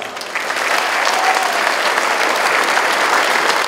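Continuous crowd applause at the opening ceremony of a regional Mixe sports championship, rising after a softer start and holding steady and loud to the end.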